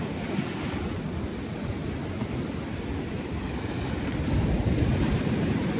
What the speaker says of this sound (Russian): Ух, какая волна. Очень близко.